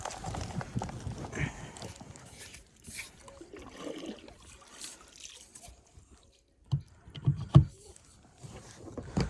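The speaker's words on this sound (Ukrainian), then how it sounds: "А тут треба це веслувати" Oars splash and knock unevenly against water and a fishing boat hull, with a few sharper thuds near the end, close and fairly quiet.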